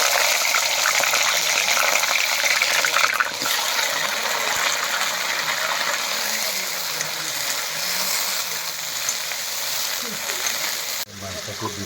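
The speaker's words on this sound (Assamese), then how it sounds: "মাংসটো দি পেলাই মই এতিয়া ভাজি আছোঁ কেৰাহীত।" Meat frying in hot oil in a kadai, a steady broadband sizzle running continuously and fairly loud, easing slightly near the end.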